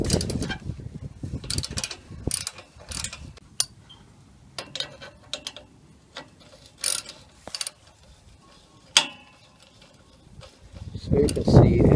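A 13mm socket ratchet loosening a nut on the exhaust clamp of a Toyota Aygo, with bursts of quick clicking ratchet strokes separated by pauses, close by, along with clinks of tools and some rustling.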